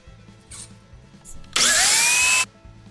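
A power saw buzzes briefly through a length of PVC pipe being cut into sections for jug fishing lines, a loud close burst of just under a second after faint earlier whirs over a low background hum.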